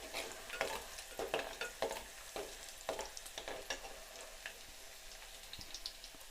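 Pirandai (adamant creeper) sautéing with reddened chana dal in a pan: a steady crackling sizzle broken by sharp clicks and scrapes of stirring, close and fairly quiet, with no talking.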